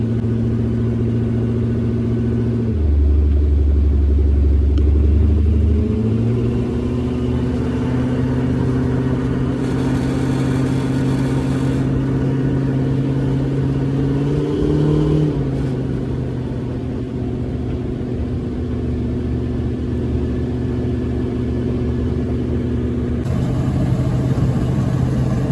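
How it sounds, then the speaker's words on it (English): A work pickup truck driven on the street, its engine and exhaust droning loud and close, pitch shifting as it revs up and settles with gear changes, no voices. "Street driving, trying to cook the exhaust."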